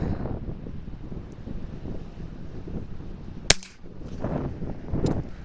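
Chiappa Little Badger rifle firing outdoors, one sharp crack standing out near the middle of a windy, rustling background, with fainter activity afterward and no talking.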